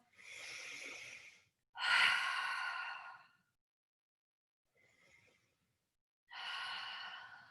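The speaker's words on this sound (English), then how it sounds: "Inhale, nose, exhale, open mouth." Slow, deliberate breaths during a guided breathing exercise: a soft nasal inhale, a long open-mouthed exhale, a faint pause, then another airy breath, close and quiet with no talking.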